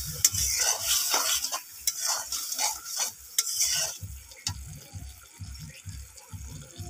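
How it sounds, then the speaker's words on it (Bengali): Chili and coriander powder stir-fried in a pan, with a bright sizzle and a rapid series of scraping, knocking strokes of the spoon against the pan, close and steady, then a run of heavier rhythmic stirring. "মশলাটা একটু কষিয়ে নেব"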